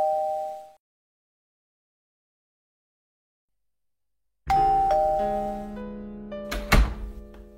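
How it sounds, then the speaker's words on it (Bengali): A cartoon doorbell rings with a bright electronic ding-dong after a silent pause, its clear sustained tones ringing out loud and close, and a thunk near the end. "কলিং বেল সামনে দেখেছো তো"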